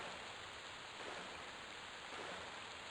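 Steady rain in Project 1999, the EverQuest game, hisses as faint, even, unbroken noise without gaps or voices.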